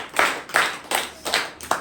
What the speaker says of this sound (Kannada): ಚಪ್ಪಾಳೆ ಹೊಡೆಯೋಣ ಜೋರಾಗಿ